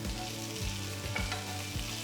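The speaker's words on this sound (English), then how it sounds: "Saute the onions for about 2 minutes." Onion wedges with chopped garlic and ginger sautéing in a pan, a continuous close sizzle broken by several spoon strokes and scrapes as the pieces are stirred.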